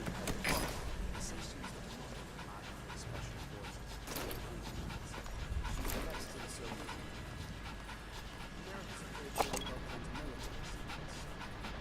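Puppy dog in Metal Gear Solid V: The Phantom Pain panting and whimpering steadily throughout, up close, over continuous game background noise with a few brief louder accents.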